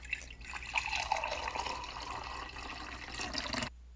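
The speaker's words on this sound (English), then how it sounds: "And then you have your delicious cup of coffee that you just pour off the top." Coffee poured off the top of a coffee press runs as a faint, steady liquid trickle for a few seconds, with small splashes, and then stops abruptly.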